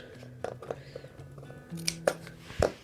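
Scissors snip through fabric pattern pieces while sewing pajamas: a few sharp, close cuts come in quick succession near the end over a quiet room background.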